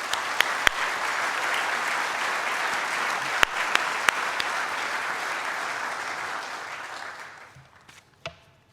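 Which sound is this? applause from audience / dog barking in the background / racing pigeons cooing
applause from audience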